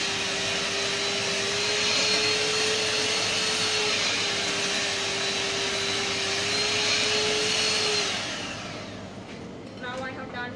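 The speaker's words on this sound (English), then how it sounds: "Now I have done with the egg beating." An electric mixer beats eggs in a kitchen, a loud steady whirring drone with a constant motor whine that runs for about eight seconds, then winds down and stops.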